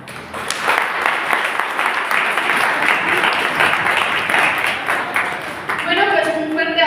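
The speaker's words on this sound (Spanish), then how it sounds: "un fuerte aplauso de nuevo, por favor, para el licenciado Francisco Hernández" An audience at a Jalisco legends evening applauds steadily for several seconds, a loud, even wash of clapping that thins near the end as a voice starts to speak.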